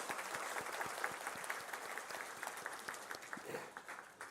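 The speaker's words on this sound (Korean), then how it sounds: "박수로 환영해 주시기 바랍니다." A church congregation claps steadily for several seconds during a Sunday service, a dense patter of hand claps at moderate distance with no voices.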